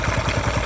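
A very small but strong Honda motorcycle engine runs steadily in a repair shop, a close, continuous low throbbing idle with an even pulsing rhythm.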